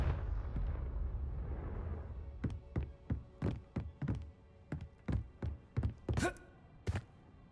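Confringo fire spell explosions in Hogwarts Legacy: a rumbling burst gives way to a rapid string of sharp, punchy blasts and thuds, close and loud, with a brighter crackling hit near the end.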